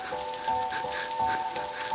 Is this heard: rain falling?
yes